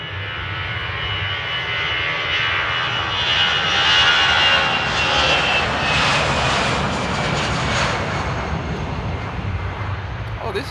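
A fixed-wing airliner takes off from Amsterdam Airport with a loud, steady engine roar that swells slightly in the middle, heard from a spotting position outdoors.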